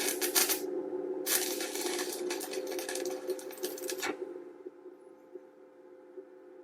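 Steel shelf frame for a storage container being tack welded: two bursts of harsh, sizzling arc crackle, a short one then a longer one, over a steady electrical hum that continues after the arc stops.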